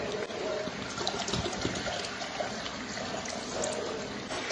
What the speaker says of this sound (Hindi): यहाँ जो हमने पानी तैयार किया था उसमें हम अच्छी तरह से और पानी डाल देंगे